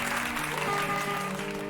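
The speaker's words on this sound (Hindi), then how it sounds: "आपकी तालियों के जोश को सुनकर" Brief swell of concert audience applause for a ghazal singer, soft and somewhat distant, with lingering sustained musical tones running underneath.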